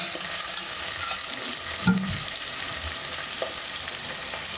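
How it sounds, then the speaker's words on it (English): Beef sizzles and fries in a pan while being stirred, a soft steady crackle with one louder clack of a utensil against the pan midway, heard close with no voices. "You can hear the sizzling sound."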